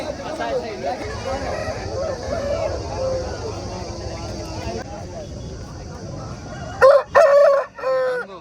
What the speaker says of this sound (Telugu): ఇది తమిళనాడు లైన్కి సంబంధించిన పుంజు